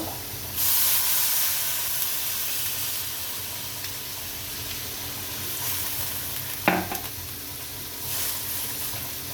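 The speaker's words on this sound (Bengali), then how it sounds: "মশলা ভাজা হলে এর মধ্যে একটু পানি দিয়ে দিব" Water poured into frying spice paste for a boal fish curry, a brief louder hiss and sputter near the start, then a steady close simmering sizzle with a single sharp utensil knock midway, no voices.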